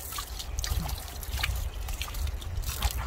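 Soft water from a water butt poured over the wheel of a BMW 6-Series, a light close trickle and splash that runs for a few seconds with small drips and no talking.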